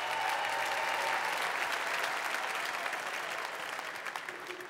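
Sustained applause from a roast audience fills the room at a steady loud level, tapering slightly toward the end, with a faint voice briefly audible underneath.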